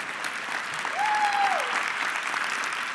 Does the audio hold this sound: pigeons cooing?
no